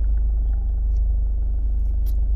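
A huge truck cutting across the road rumbles close by, a steady low-pitched drone of heavy engine noise that fills the whole stretch, with a few faint higher clicks over it.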